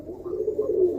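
Roller pigeons, South African birds, coo in a low continuous murmur, with several overlapping birds close by for about a second and no talk.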